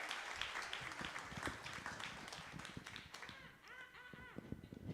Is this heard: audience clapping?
yes